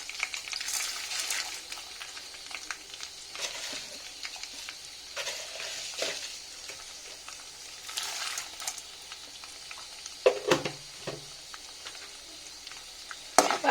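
Curry leaves and tempering spices frying in oil, a steady close sizzle with scattered crackles and occasional stirring clinks, moderately loud and continuous without any voices.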